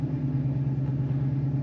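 Infiniti Q50 Red Sport 400 fitted with a new exhaust setup, heard as a steady, deep low rumble that holds without a break, loud and close.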